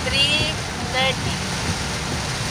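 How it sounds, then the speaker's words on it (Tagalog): Heavy rain from Typhoon Paeng pours steadily around a vehicle, a broadband wash of loud, continuous noise with brief voices over it. "Ganyan na katilim dahil malakas yung ulan."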